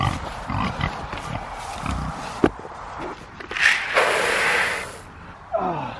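Pigs grunt, snort and oink close by outdoors on a farm, with scuffling footsteps, a sharp knock and a louder squealing burst later on.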